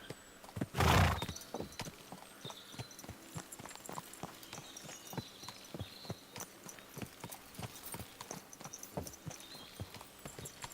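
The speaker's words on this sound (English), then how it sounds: "Oh my god, horse." A horse in the video game Kingdom Come: Deliverance II gives a loud whinny near the start, followed by a steady clip-clop of hooves trotting at an even rhythm.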